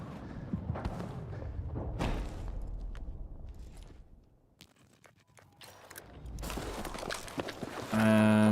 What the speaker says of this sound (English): those footsteps are insanely loud